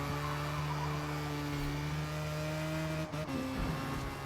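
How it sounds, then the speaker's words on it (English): A race car engine in a racing video game holds a steady high whine, then drops pitch abruptly as it downshifts, loud and continuous with no talking. "And then we're going to downshift"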